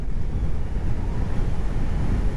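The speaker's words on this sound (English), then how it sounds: "Still very windy, as you can tell." Strong, steady wind buffeting the microphone while riding an electric bike, a continuous low rumbling roar with no voices.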